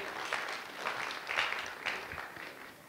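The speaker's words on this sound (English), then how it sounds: "let's give them a round of applause" Applause from a church audience honoring a couple, a modest scattering of hands clapping in soft waves that swell and fade, moderately near and fairly light over a few seconds.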